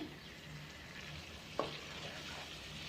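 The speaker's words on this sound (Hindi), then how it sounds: "और 1 मिनट के लिए इसे अच्छे से भून लेंगे।" Capsicum, paneer and onion sautéing in a pan over raised flame, giving a steady, fairly quiet sizzle with one brief utensil clink partway through.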